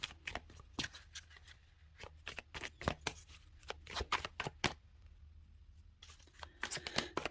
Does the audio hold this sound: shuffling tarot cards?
yes